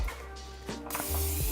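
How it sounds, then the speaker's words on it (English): Non-stick cooking spray released into a 13 by 9 baking pan, a close, breathy hiss that builds over a second of kitchen background. "if you got that non-stick spray"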